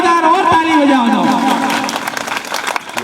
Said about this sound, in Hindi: एक बार जोरदार ताली बजाओ शिवराज जी चौहान का लिए